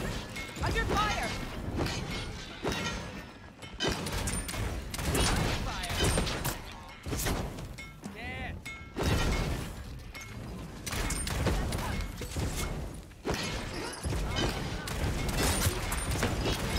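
Gunfire and crashing impacts from the video game Realm Royale fill a dense, chaotic battle mix, with bursts of shots and hits running continuously under loud game action and speech.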